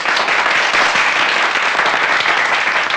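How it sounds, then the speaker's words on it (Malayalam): A hall full of people claps in dense, sustained applause at an honouring ceremony, loud and continuous with no voices over it. "എല്ലാവരും ഒന്ന് കൈയടിച്ച്."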